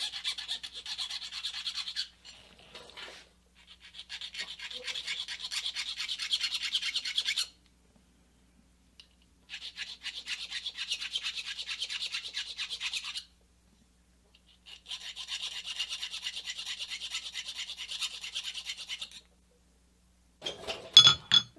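A metal flat file rasps across a workpiece in four long stretches of quick back-and-forth strokes, separated by short silences, close and fairly quiet, with a few clinks at the end.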